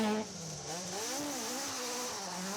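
Rear-wheel drive Toyota Starlet rally car on a historic rally, engine revving with rising and falling pitch as it passes, loud and fairly close, no talking.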